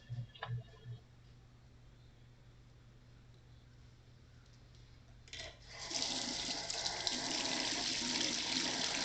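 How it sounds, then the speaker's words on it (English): Cold tap water starts running from about six seconds, a steady loud hiss of flowing water as hair extensions are rinsed beneath it, after a quiet stretch with a few small knocks. "we're rinsing with cold water"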